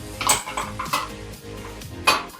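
Dried prawn and drumstick curry is stirred in a pot. A utensil scrapes and clinks against the metal in a few uneven, close, fairly loud knocks, with no talk.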